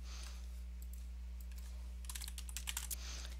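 Keys clicking on a computer keyboard in a short burst of typing, starting faint and growing into quicker, louder taps over the last second and a half, set against a steady low electrical hum.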